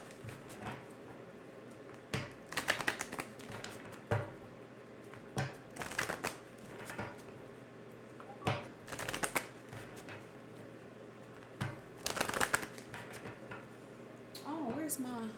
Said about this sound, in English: I just do a little bit of shuffling here